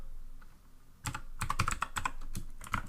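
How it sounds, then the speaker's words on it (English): Quick bursts of keystrokes on a computer keyboard, close and crisp, with an irregular rhythm of clustered taps after a brief pause, no voices. "The next step here is to type"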